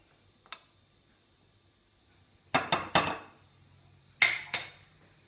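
Spoon stirring yeast and sugar into warm water for pizza dough: one faint tap, then quick clusters of bright metal-on-bowl clinks in a quiet kitchen.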